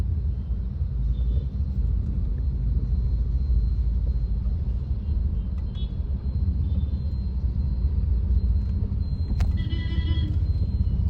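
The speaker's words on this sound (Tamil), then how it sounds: "கொஞ்சம் மழை விட்டுருக்கனால டிராஃபிக்காக இருக்குது இந்த ஏரியாவில்" Steady road traffic rumbles past a moving car on a rain-wet road in a rural area near Vengal, a continuous low wash of engines and tyre noise with a brief higher whine near the end.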